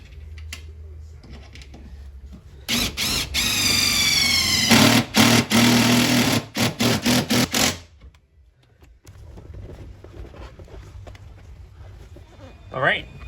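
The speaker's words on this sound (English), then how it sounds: "we have a wire brush, and we're just cleaning that up" A powered wire brush scrubs paint off the metal B-pillar of a Ford F-150 pickup in a loud, close, gritty whir lasting several seconds, stuttering on and off near the end, with quieter stretches before and after.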